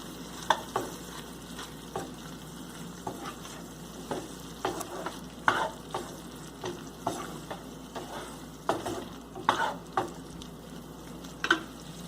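Corn kernels stirred in a pan for a red pasta sauce, with a steady low sizzle and a run of sharp scraping strokes from a spoon against the pan, repeating every second or so, close by and with no talk.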